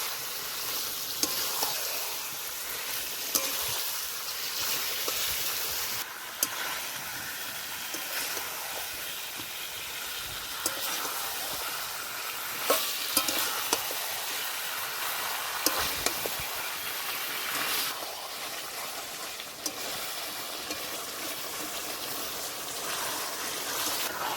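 Chicken meat sizzles loudly in a pan with ground spice paste for a village-style curry, a continuous frying hiss punctuated by the periodic scraping and knocking of stirring.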